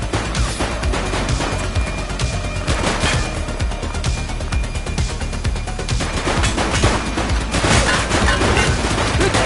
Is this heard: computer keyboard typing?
no